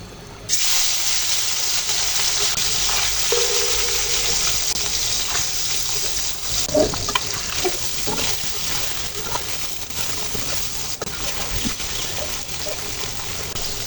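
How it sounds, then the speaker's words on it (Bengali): Small guttum fish fry in hot oil with a steady, dense sizzling hiss that starts abruptly and carries on throughout, with occasional sharper pops and crackles. "মাছগুলো ভেজে নেব"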